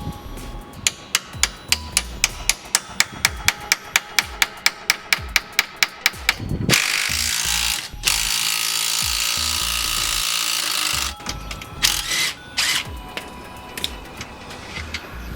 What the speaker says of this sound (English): I'm going to use an impact wrench to take it off